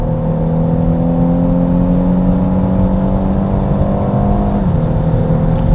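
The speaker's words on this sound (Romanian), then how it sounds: "Și deci cum accelerează mașina de la 100 plecând din treapta a patra?" Renault Megane Estate GT with a 1.6 TCe engine and EDC dual-clutch gearbox accelerates hard from 100 km/h in fourth gear on kick-down, a loud steady engine drone rising in pitch, then a quick gear change drops the tone.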